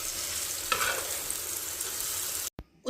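A small omelette sizzles and fries steadily in ghee in a pan, close and continuous. A brief scrape comes partway through, and the sound cuts off near the end.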